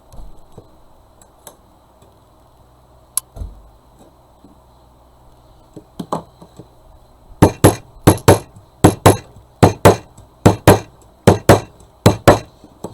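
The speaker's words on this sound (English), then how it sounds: "what I'm going to do is just take a hammer" A hammer lightly taps a chicken wire frame shaped into a flower watering can, with a few scattered knocks giving way to a rapid series of about a dozen sharp, close, ringing metallic strikes in an uneven rhythm.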